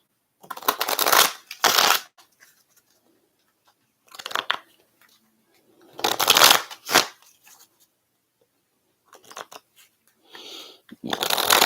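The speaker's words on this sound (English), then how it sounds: "we're going to have to reshuffle" A deck of cards is shuffled by hand in several close, crisp bursts of riffling and flapping, separated by short silent pauses, with no talking.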